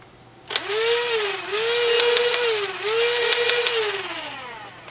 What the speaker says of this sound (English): I think I had some grinding gears.